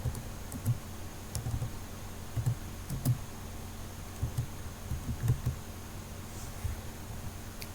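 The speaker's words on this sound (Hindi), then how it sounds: "अभी मैं आप लोगों के सामने टाइप कर रहा हूँ फेसबुक पेज।" Typing on a computer keyboard, soft irregular key clicks in small clusters against a steady background hiss, close and fairly quiet with no voices.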